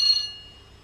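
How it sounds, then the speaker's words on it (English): AWS warning bell from a Bachmann Class 350 model train's sound decoder: a single bright electronic ding, loud and close, decaying quickly into silence within a second. "We've got an AWS bell, so let's have a listen to that."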